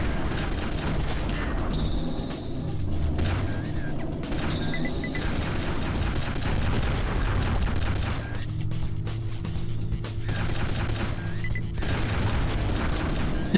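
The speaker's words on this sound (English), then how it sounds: "Missile ran into the wall." A missile slamming into a wall in a fast-paced shooter video game, buried in a continuous dense wash of gunfire, booms and crashes that runs loud and unbroken throughout.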